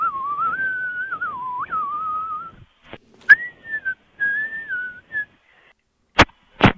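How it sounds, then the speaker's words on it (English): A person whistles a wavering tune in several phrases: a long sliding opening line, then shorter bursts separated by pauses, closing with a couple of sharp clicks. "Your whistling skills are amazing."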